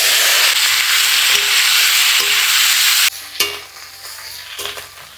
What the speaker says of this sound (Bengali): মাছ ভাজা তেলের মধ্যেই দিয়ে দিচ্ছি ফুলকপি।